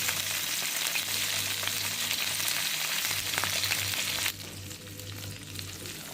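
Tomatoes and green chillies frying in oil in a pan, a dense steady sizzle that drops in level near the end, with no voices.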